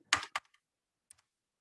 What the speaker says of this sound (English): if I go to the browser and type local host